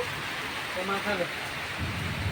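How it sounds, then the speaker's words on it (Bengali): Rain falls steadily with rumbling thunder during a nighttime storm, a constant wash of noise with a faint voice briefly audible underneath. "বৃষ্টি হচ্ছে বৃষ্টি"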